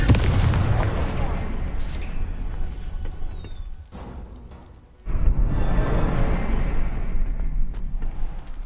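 A Confringo fire spell cast in Hogwarts Legacy on PS5 lets out a loud, booming burst with crackling fiery rumble, then a brief dip and a second sustained roaring blast over several seconds.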